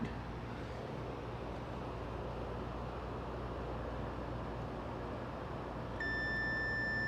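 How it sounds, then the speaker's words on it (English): A steady electronic beep from a multimeter on continuity test begins near the end, a continuous high tone over constant background hum, during a 1993 Sea-Doo GTS rebuild. "test it just with a multimeter on continuity. It should beep now."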